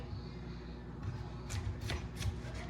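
A knife slices food into French fry strips on a cutting board, with several close, crisp thunks at an uneven pace over a low room hum.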